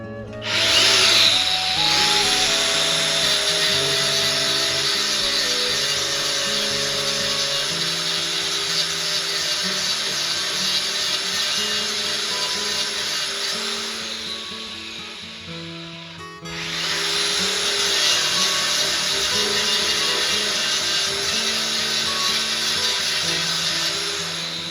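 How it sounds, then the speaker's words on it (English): A grinder flattens a humped wooden panel on a Kick Man arcade cabinet during restoration, a loud continuous abrasive whine with a steady grinding rasp that dips briefly midway and then resumes at full strength, with no speech. "I'm gonna have to use my grinder and grind that wood down right there to flatten it back out."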